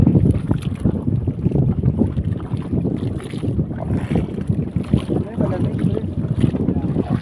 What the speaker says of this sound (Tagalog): Sumama yung hangin eh.